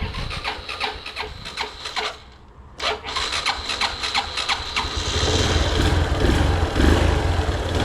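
A Honda 110i motorcycle, left parked for a long time, struggles to start: rapid ticking of the starter cranks, a short pause, more cranking, then the engine catches and settles into a loud, steady idle close by.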